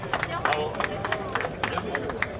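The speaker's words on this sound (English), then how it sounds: "40 Tours de France, ça s'applaudit très très fort." Audience applauding at a Tour de France ceremony, quick scattered claps forming a moderate round of applause under someone speaking French.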